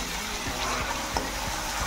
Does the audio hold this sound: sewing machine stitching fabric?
no